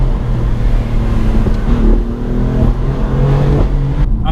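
BMW F80 M3 engine pulling hard from inside the car, a deep, steady growling drone with rising harmonic tones as it accelerates, loud and close, with no talking.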